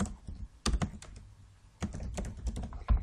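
Typing on a computer keyboard, with bursts of close key clicks and thunks separated by a quieter pause in the middle, no voices present.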